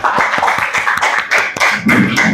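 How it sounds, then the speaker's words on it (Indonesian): Applause for a student group in a classroom presentation session: a crowd of hands clapping steadily and loudly and close by, with sharp individual claps standing out in a quick, uneven rhythm. "Kasih aplaus untuk kelompok 3"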